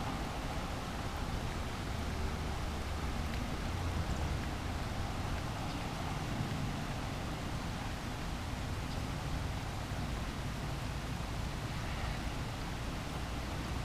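Steady rain falls during a storm in Greenville, South Carolina, heard as an even, continuous hiss with no breaks or distinct drops standing out.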